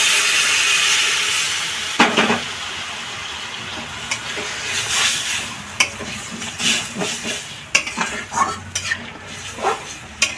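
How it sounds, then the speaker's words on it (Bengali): Water poured into hot spiced oil for a pumpkin kofta curry bursts into a loud hiss that settles into bubbling sizzle, broken by spoon scrapes and clanks against the pan. "এখন আমি মিষ্টি কুমড়ো যে কোপটা মানে মেখেছিলাম সে তার মধ্যে একটু জল দিয়ে দিয়েছি সেই জলটা দিয়ে দিচ্ছি"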